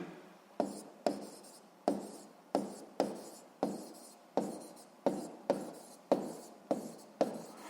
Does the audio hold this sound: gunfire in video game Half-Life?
no